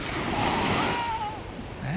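Sea waves washing in at a beach in San Antonio, Zambales, a broad surf wash with wind rushing across, fading slightly midway before swelling again, with faint other sounds around.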